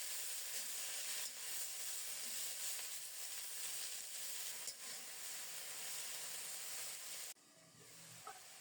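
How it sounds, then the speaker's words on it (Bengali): Cabbage leaves fry in a covered pan with salt, giving a steady, fairly quiet sizzle and hiss that carries on evenly, then drops away sharply near the end as the lid or heat changes. "স্বাদ মতো লবণ দিয়ে ঢেকে ঢেকে নেড়ে চেড়ে কপিটাকে লালচে করে ভেজে নেব"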